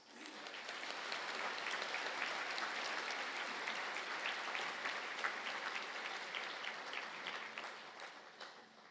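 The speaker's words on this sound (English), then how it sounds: "Please give a round of applause for the graduates of Bachelor of Business in Retail Management" A hall full of people clapping for Bachelor of Business in Retail Management graduates at an ATU Galway conferring ceremony, sustained even applause that swells in and holds, then tapers slightly toward the end.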